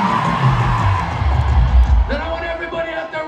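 Concert crowd at a show in Phoenix, Arizona, cheering, whooping and yelling in a loud, dense swell. A few close shouts and an amplified voice over the roar.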